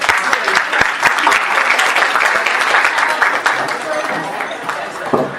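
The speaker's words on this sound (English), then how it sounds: "a hand of applause, please." An audience at a school prize giving ceremony applauds with steady, dense clapping that fades slightly toward the end, close and loud, with talk mixed in.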